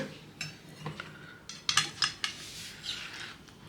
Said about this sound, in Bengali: এটা এখন তুলে দিব ঢাকনাটা।